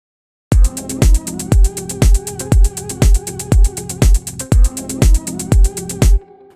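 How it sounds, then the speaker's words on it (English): Programmed closed hi-hats in Cubase tick on every 16th note over a steady drum beat with a punchy kick pulsing about twice a second, loud and close, then stopping abruptly. "So we have the hi-hats on every 16th note."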